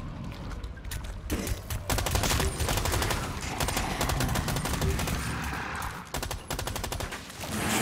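Dense automatic gunfire rattles in rapid bursts in the co-op shooter Rainbow Six Extraction, loud and close, with continuous volleys and a brief lull near the end.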